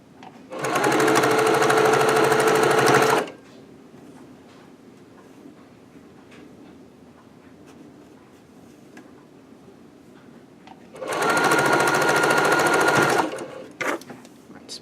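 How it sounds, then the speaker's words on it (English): A sewing machine chain-pieces quilt block seams for a maple leaf block, running in two loud, fast bursts of about two seconds each separated by quiet pauses, with faint handling noises between. "sewing that with a 1/4 inch seam allowance"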